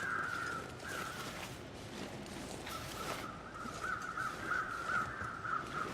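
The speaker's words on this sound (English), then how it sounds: "I hear the crows." Crows caw repeatedly in the snowy wilderness of the survival video game The Long Dark, several calls in loose bursts over a steady windy ambient bed.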